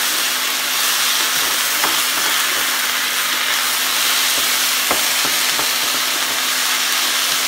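Vegetables for a potato and chicken soup sizzle and cook in a pot, a loud steady hiss with occasional crackles and pops throughout.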